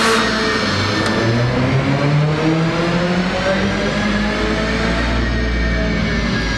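A stage 2 tuned Mercedes-AMG A45 engine revs loudly and close, its pitch sweeping up and down in a sustained roar, with a few sharp exhaust pops and crackles mixed in.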